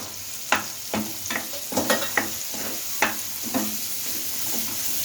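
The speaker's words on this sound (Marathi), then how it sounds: "आता आपण मटर टाकूया" Food sizzles steadily in a hot pan as peas are added, while a utensil scrapes and stirs in repeated strokes, close by and without talking.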